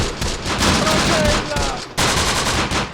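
Mortar fire in the video game Close Combat: The Bloody First, a loud, dense barrage of rapid gunfire and blasts in a night battle, continuous and close with brief dips.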